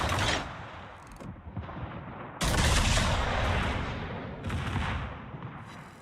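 Warship guns boom in World of Warships: a dense roll of heavy gunfire, then a loud new salvo midway and another burst near the end, all close and forceful with no talk over it.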